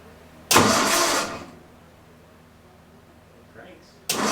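A Triumph TR4 engine cranking over on a 200-amp boost, one loud burst of churning starter noise lasting about a second, then quiet, then a second cranking burst starting at the end.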